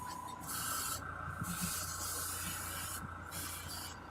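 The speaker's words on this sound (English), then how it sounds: "Just one more wash through because I'm not going to use this for a while." A Badger Sotar 2020 airbrush sprays a cleaning wash, giving a steady close hiss that swells and drops in bursts over a faint low hum.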